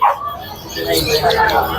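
At a pet market, a dog gives a few short yips and barks that come through under a person speaking close by, all within a brief moment.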